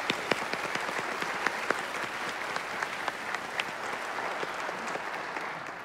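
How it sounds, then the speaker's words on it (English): Applause from an audience at an institute's annual address, honoring donor Curtis Preem: dense, steady clapping from many hands, moderately distant and sustained for several seconds with no talk over it. "Let's give him a quick round of applause."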